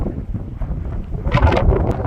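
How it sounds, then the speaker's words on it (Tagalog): Strong mountain wind on Mount Olis in Benguet roars steadily against the microphone, buffeting louder and gustier toward the end. "Grabe lakas ang hangin nila dun."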